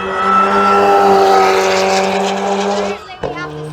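A V8 race car engine at Goodwood Motor Circuit during a retro car event roars loudly and close with a strong, steady tone, then cuts off abruptly before a brief blip of revs, with people talking nearby.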